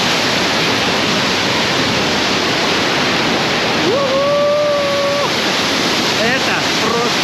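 Powerful waterfall at the Red Cave (Kizil-Koba) in Crimea, a dense, steady roar of falling water close by that fills the whole clip, with a voice briefly heard over it partway through.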